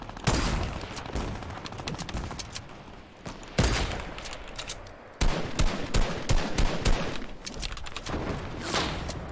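Rapid bursts of gunfire from the Fortnite video game, dense volleys with sharp loud peaks and brief lulls, firing steadily throughout with no talk.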